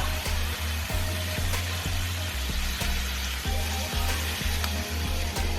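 Pork belly sizzles loudly in a pan after water is poured in, with a dense continuous hiss close up and repeated knocks of a utensil stirring through it.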